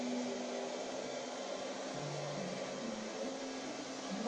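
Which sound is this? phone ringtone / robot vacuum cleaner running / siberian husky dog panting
robot vacuum cleaner running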